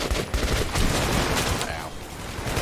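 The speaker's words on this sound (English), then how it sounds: "we get to try out our new AK" An AK assault rifle fires in Metro 2, a dense run of loud, close shots packed together over a short stretch, with faint voices mixed in.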